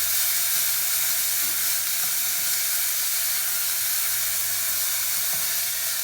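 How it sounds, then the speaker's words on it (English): Onion and garlic sizzle in sunflower oil in a pan over moderate heat, a steady, even, hissing fry with no pauses and no voices. "I'm going to add my onion and garlic to that."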